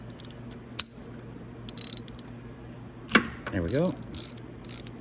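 A ratchet clicks as it loosens the spark plug on a Venom X22R Max 250cc motorcycle, giving short bursts of close, sharp pawl clicks with a brief spoken comment among them.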